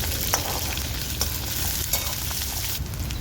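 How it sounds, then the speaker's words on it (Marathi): Long-sliced onion fries in oil in a pan until browned, giving a steady dense sizzle with a few light scrapes of stirring, close and continuous with no voices. "तो पण घालते मी कांद्याला मी लाल तर परतून घेणार आहे"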